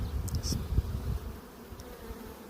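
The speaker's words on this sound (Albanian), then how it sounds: "Jemi duke bërë kontrollin e radhës tek bletët." Honeybees buzz continuously around an opened hive during a spring inspection, a low close hum with a few louder passes and faint handling knocks early on.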